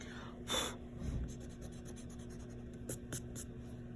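Pencil sketching on paper, soft scratchy strokes with a few sharper taps, faint and close, no voices.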